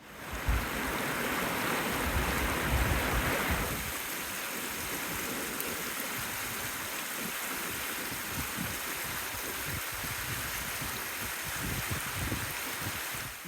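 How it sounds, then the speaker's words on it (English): Johns Creek in Craig County flows steadily nearby, a continuous rushing, burbling wash of water running without pause, slightly louder in the first few seconds. "That's the sound of Johns Creek in Craig County."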